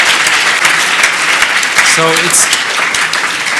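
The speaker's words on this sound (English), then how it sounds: "I particularly like to ask for your applause for the hotel staff who look after us very well" Conference audience applauding hotel staff at a plenary session: steady broadband clapping runs throughout, fairly loud and continuous, with a brief spoken word and a short tonal sound partway through.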